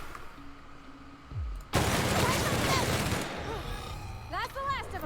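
A gun firing in The Outer Worlds, a loud dense burst of rapid shots lasting about a second and a half, followed by quieter game sounds and a voice.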